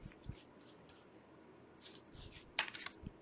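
A worn deck of Romance Angels tarot cards being shuffled quietly: soft papery slides and taps, then one brief, sharper riffle burst near the end, all faint and close, with no speech.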